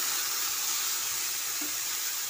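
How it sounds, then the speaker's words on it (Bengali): Okra (bhindi) sizzling in oil in a pan with a little salt while being stirred, a steady close frying hiss throughout with no voices. "নাড়াচাড়া করে একটু ভালো করে ভেজে নেব"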